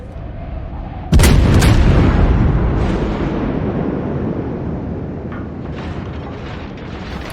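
Ship guns firing in a World of Warships clan battle: a loud booming salvo at about one second, with a long rumbling tail that slowly fades.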